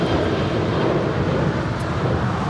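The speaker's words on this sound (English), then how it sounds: "United 1013 departing to Denver. It's a 737-800 full of passengers." A United Boeing 737-800 airliner loaded with passengers takes off at Los Angeles International Airport, its engines giving a steady, broadband roar that holds loud and even throughout, with wind noise but no talking.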